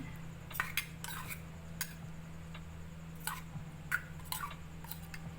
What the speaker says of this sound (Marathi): आणि असं छान मिक्स करून घ्यायचे.